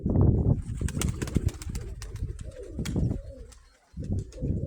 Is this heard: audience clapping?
no